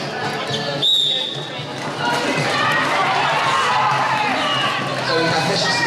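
A roller derby crowd at a game between MKRD Concrete Cows and Essex Roller Derby makes a busy murmur of chatter and movement behind someone talking close up.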